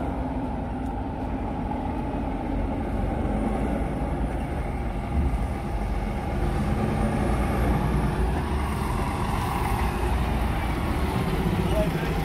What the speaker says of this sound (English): Keep out of the way of this truck coming out.